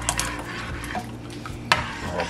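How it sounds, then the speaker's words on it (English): Cornmeal porridge being stirred in a pot, a steady scraping and swishing with a faint background sizzle and one sharp utensil clink partway through, close and continuous without talk. "I will continue stirring it so that no lumping takes place"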